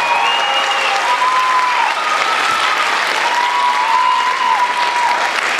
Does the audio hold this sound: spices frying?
no